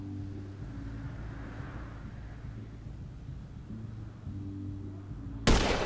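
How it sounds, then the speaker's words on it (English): A rifle shot in GTA V, one sudden sharp loud crack near the end, after several seconds of low droning background engine hum with no talk. "And now I'm taking a shot."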